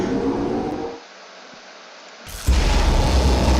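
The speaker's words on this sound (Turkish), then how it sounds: "büyük patlama yapıyor" A big explosion in the video game Toilet World Roleplay 2 goes off as a loud, broad burst with deep rumble, after a brief dip in a roaring noise bed.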